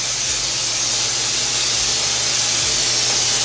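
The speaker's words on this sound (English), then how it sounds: "We are going to spray the bundt pan really well." Cooking spray hisses steadily into a bundt pan, a continuous close aerosol spray lasting several seconds with no talking.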